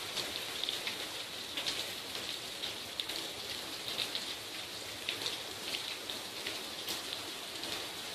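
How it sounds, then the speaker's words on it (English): Steady rainfall pattering on a hard surface at a front step in Tucson, Arizona, a dense continuous hiss with scattered louder drops, no voices. "Whoa, look, the rain is at my front step."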